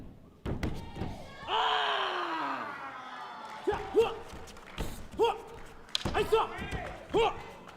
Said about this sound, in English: you can hear the power as he's shifting the stances and hitting the bows up against his body